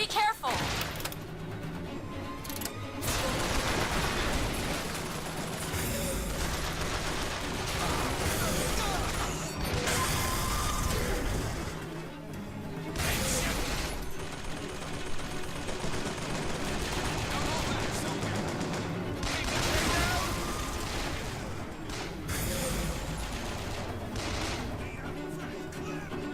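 Heavy automatic turret gunfire in the video game Bioshock Infinite, a dense, continuous clatter of shots and impacts with explosive crashes, loud and close throughout, with a voice shouting over the combat.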